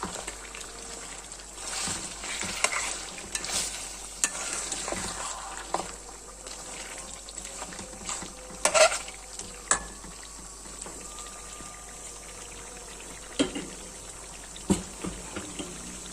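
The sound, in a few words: mutton frying in ghee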